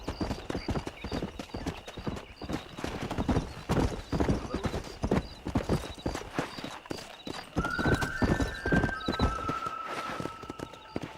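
A horse in the Red Dead Redemption video game gallops with rapid, continuous hoofbeats, loud and close, and a whinny rises near the end.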